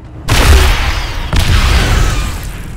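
Two heavy booming grenade blasts go off close by in Aliens: Dark Descent, the second following about a second after the first, each rolling out into a long rumbling tail.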